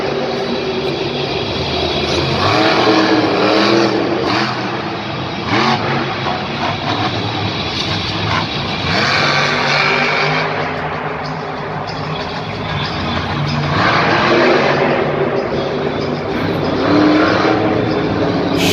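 Monster truck engines roar and rev continuously at a Monster Jam stadium show in Minneapolis, loud and sustained with crowd and arena noise, no talk.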